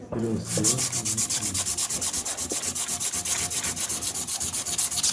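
Steady back-and-forth rasping of sandpaper on a starter motor's commutator, fast regular strokes repeating evenly throughout, close and clear.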